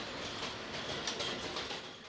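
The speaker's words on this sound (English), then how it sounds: "On the night train bound for Manhattan" A New York City subway night train bound for Manhattan rolling along, a steady loud rumble and rattle of the cars with faint wheel squeal, no voices.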